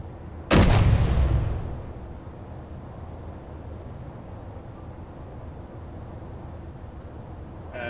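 Weapons blast turrets in the game Project Prototech: a single loud, booming shot erupts and decays over about a second into a steady low hum, with a faint second report at the end.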